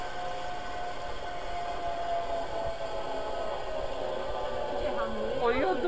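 A continuous rolling, whirring hum of a zip line trolley running along a cable at a rope park in Honduras, steady and fairly loud, with wind noise and a faint voice near the end.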